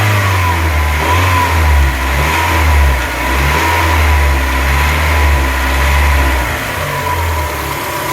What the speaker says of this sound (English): when I rev the engine you can see it moving